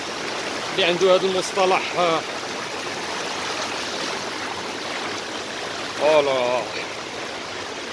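Steady rushing of river water at Oued Kennar near Chefchaouen fills the whole clip, a continuous near stream roar, with someone speaking over it in two short bursts.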